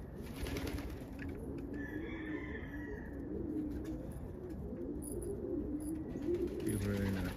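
An almond pigeon hen coos softly in a loft on a snowy day, with low, repeated murmuring calls over a steady background.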